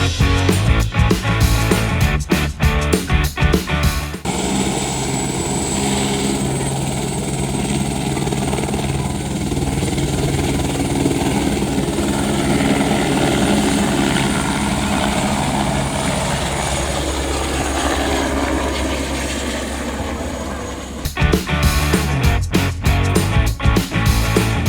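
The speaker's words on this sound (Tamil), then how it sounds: "ஹெலிகாப்டர் ரைடு ரொம்ப சூப்பராக இருந்தது." A helicopter ride at the Pollachi balloon festival: a loud, steady rotor and engine drone dominates from inside the cabin for most of the stretch, with choppy rotor beats at the start and end.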